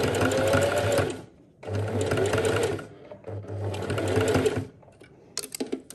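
A home sewing machine stitching fabric for makeup-remover wipes, a close whirring motor hum in three sustained bursts separated by short pauses, with faint handling sounds at the end.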